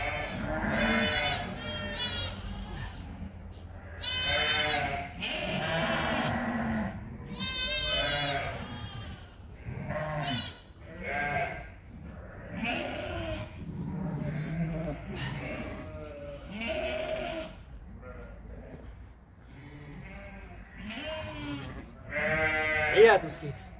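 A large sheep bleats over and over in loud, close, wavering cries that follow one another almost without pause, with a voice talking at times among them.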